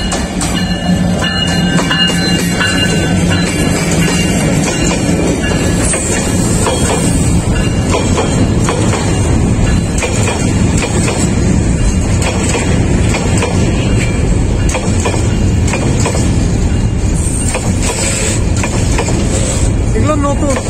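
A train hauled by locomotive 3007 rolls past on the Dhaka–Chattogram line, loud and close, with continuous wheel rumble, clickety-clack and hiss, and voices mixed in.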